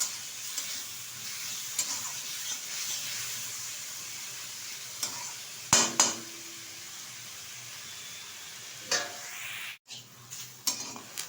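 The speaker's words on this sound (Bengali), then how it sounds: "এখন ভালোভাবে নিম পাতাটা দেওয়ার পর ভেজে নেব।" Neem leaves frying in a pan for a Bengali neem-and-eggplant fry, a steady soft sizzle and hiss with occasional stirring clatters and scrapes, fairly close and moderately quiet, with no talking.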